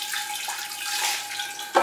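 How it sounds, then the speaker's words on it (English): Water pours steadily into holey clay pots holding Cattleya orchids, a continuous splashing trickle with a brief louder splash near the end. "So this is the first real water that these have had for some time."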